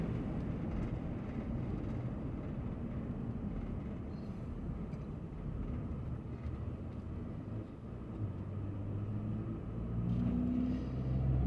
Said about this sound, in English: If you don't mind dealing with traffic noise, I personally would not want to buy a house on this street only because of how busy this street is.